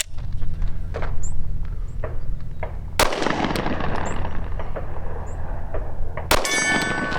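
Gunshots from a pistol firing Brass Max ammunition at an outdoor range: a few sharp, loud reports spaced seconds apart, each ringing out with echo and a metallic clang from steel targets.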